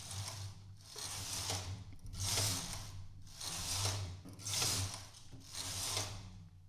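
A knitting machine carriage is pushed back and forth across the needle bed, knitting rows. About five rhythmic whooshing, ratcheting passes sit close and quiet, with no voices.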